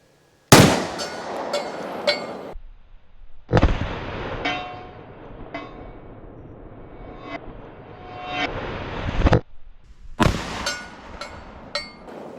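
A Smith & Wesson Bodyguard 2.0 pistol fired outdoors at a humid, swampy range: a few loud, sharp reports spaced seconds apart, each with a long ringing tail and echo.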